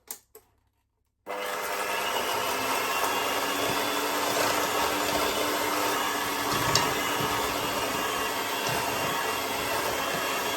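An electric mixer or blender whirs into a steady, even drone as it mixes a breakfast batter of spelt flour, running alone after a short clatter and silence.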